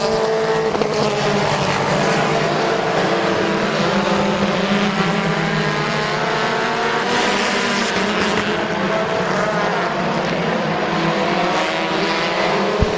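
Race cars thunder around Midvale Speedway, a steady loud roar of engines with shifting pitch as the pack circles, running continuously through the whole stretch.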